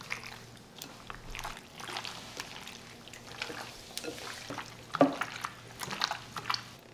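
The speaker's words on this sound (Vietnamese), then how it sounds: "Rồi mình trộn đều lên cho thịt áo đều gia vị." Marinated pork for grilled skewers being tossed by hand with garlic-onion juice, pepper and seasonings, making soft wet squelches and light slaps in an irregular rhythm, close but quiet.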